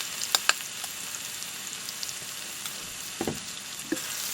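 Garlic frying in hot oil in a wok: a steady sizzle with a few sharp clinks of utensils against the pan, heard close with no voices.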